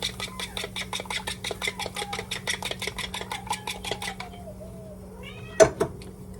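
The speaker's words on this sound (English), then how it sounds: "What kitty? What kitty? What you want? You need some cat food." A cat meowing over and over in a home kitchen during a breakfast routine, short repeated cries in quick rhythm under faint clatter, ending in a sharp louder clink.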